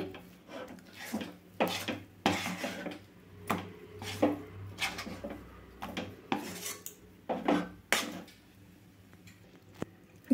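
Rice-flour dough being stirred in a pan on a stove for kudumulu dumplings, heard as steady rhythmic scraping and knocking of a utensil against the pan, close and fairly loud over a low stove hum, with no talking.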